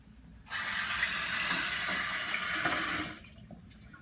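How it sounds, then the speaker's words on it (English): Tap water runs steadily from a faucet for about two and a half seconds as hands are washed at a kitchen sink, a close, even hiss that starts abruptly and cuts off. "let me wash my hands."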